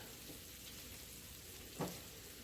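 Onions and bacon frying in a pan give a continuous, faint, close sizzle with one brief stirring clack near the end, and no one speaks.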